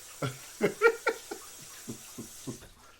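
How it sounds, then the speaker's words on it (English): Rhythmic wet lapping sounds, a dog drinking water up close in quick repeated laps with brief pauses. "you can hear the dog drinking water right now"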